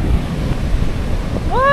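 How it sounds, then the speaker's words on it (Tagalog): Large ocean waves crashing and rushing near the listener, heavy wind noise across the microphone throughout, with a short tonal whistle or horn near the end. "Laki talaga ng alon."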